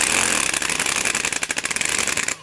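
A Porter-Cable power drill with a half-inch impacting keyless chuck whirs loudly with a rapid ratcheting chatter, then cuts off abruptly near the end.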